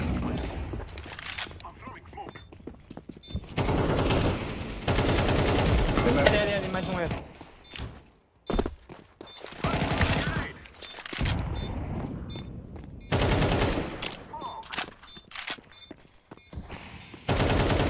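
Bursts of rapid automatic gunfire and repeated shots in a tactical shooting video game, loud and dense, mixed with game effects and the player's ongoing speech.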